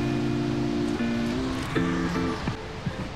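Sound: ocean waves on a beach in Australia

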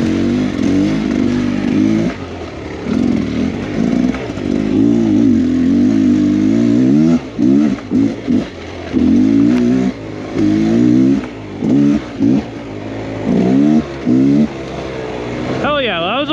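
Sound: dirt bike engine revving on enduro trail

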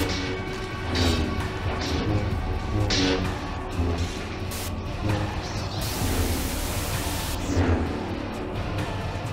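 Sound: lightning and thunder effect in Roblox Saber Showdown video game

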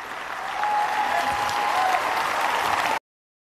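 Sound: audience applause for heroes

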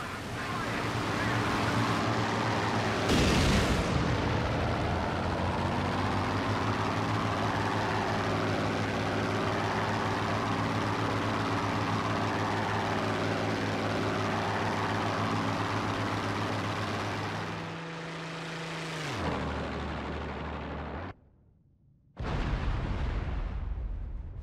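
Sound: explosion and aircraft engines in video game IL-2 Great Battles

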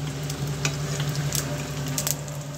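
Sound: mustard seeds and urad dal sizzling in hot oil

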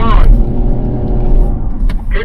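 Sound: Land Rover Defender 130 accelerating

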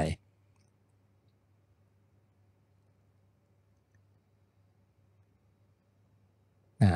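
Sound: mouse clicking

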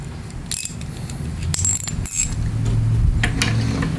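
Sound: quarter inch drive ratchet tightening lawnmower carburetor bowl

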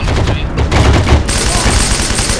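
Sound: sniper gunfire in the video game Heroes & Generals

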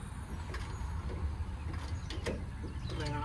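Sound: cylinder jacks lifting a Freightliner cabover cab

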